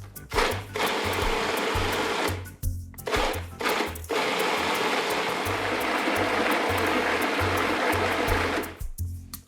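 A blender purees broccoli and potato soup, whirring loudly and steadily, cutting out briefly a few times before running continuously, then stopping; close and harsh with no talking.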